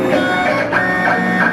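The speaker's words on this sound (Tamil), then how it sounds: "நார்மலாக வந்து அமுத்துறோம் அப்படின்னா உங்களுக்கு டெஸ்ட் கட் ஆகும்." A JK 721 cutting plotter running a test cut, a steady close mechanical whir with faint rhythmic pulses of the carriage moving back and forth, loud and continuous with no talk.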